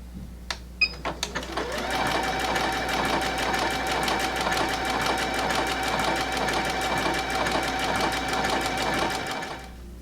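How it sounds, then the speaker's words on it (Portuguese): A sewing machine runs steadily for most of the clip, its needle chattering in a fast, even rhythm as it sews a close, overlock-like finishing stitch along the edge of a children's towel bag, after a few brief taps at the start. "eu vou continuar fazendo um pontinho que se aproxima de overlock, para dar um acabamento nessa bolsa"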